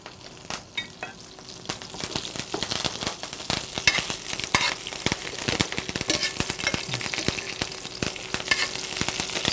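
Fresh thyme dropped into hot frying oil while quail is cooked gives a lively, close sizzle full of sharp crackles and pops, with stirring throughout and no talking.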